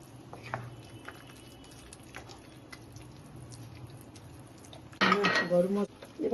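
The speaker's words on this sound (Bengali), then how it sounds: "এবার আমি এর সঙ্গে ছানা মিশিয়ে দিচ্ছি।" Chhana, a fresh cottage cheese, is mixed in a bowl, giving faint wet squishing and soft scraping before a louder burst of utensil clatter against the bowl near the end.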